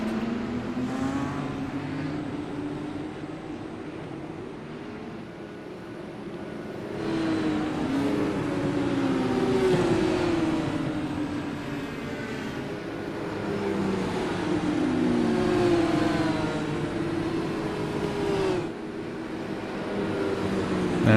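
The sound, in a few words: race cars rolling off behind pace car in racing video game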